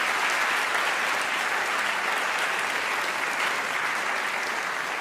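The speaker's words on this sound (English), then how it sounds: "I just want to invite one more round of applause for Robert Rosencrantz for making this possible" A large audience applauding at a science-versus-God debate, dense sustained clapping throughout, fairly loud and even, with no speech over it.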